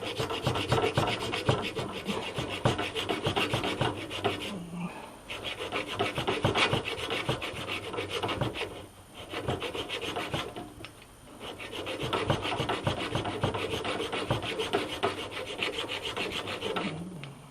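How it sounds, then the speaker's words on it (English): Hand file rasping back and forth to sharpen a blade edge, a steady rhythmic scraping that runs nearly continuously up close, with a couple of short pauses between runs of strokes. "I found the handle to my file."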